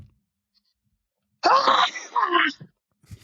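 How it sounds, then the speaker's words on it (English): Two sneezes from a donkey, sharp and close, coming in quick succession after a stretch of silence, with a brief faint sound at the very end. "There's two sneezes from the donkey."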